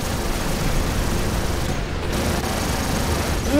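Dense, continuous gunfire from the mech combat game War Robots, a steady loud barrage of shots and booms filling the whole stretch with no pauses.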